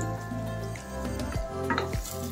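Onion added to a pan of shallow olive oil sizzles steadily, with a few stirring scrapes and soft clatter from the pan partway through.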